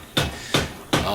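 A power hammer strikes Damascus steel between the dies in three heavy, evenly spaced blows about a third of a second apart, each a loud near thud with a brief ringing decay.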